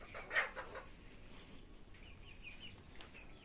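Native desi chickens cluck in a short burst near the start, then softer chirps and clucks follow faintly against quiet outdoor background noise.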